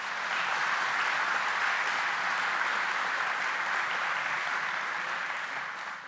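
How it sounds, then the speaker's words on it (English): Sustained applause from a crowd at an outdoor groundbreaking ceremony for a commercial port of entry in Douglas, Arizona, steady and full for about six seconds before easing slightly at the end. "let's give her a round of applause."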